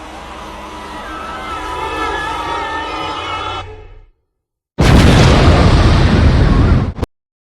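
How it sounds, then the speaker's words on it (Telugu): A gas cylinder blows up in one loud, harsh blast lasting about two seconds and cutting off sharply, after a stretch of steady rumbling noise and a short silence. "కేవలం కాల్చిపాడేసిన సిగరెట్టో ఓట్కా అంటుకుని పేలిన గ్యాస్ సిలిండర్ కాదండి."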